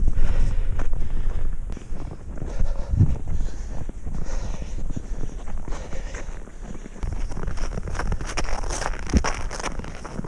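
Gusty wind on a mountain summit buffets the microphone in uneven, loud rumbling surges over about ten seconds, with a few faint knocks and no speech.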